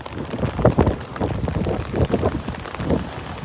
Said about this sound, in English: You can probably hear the rain hitting my umbrella here.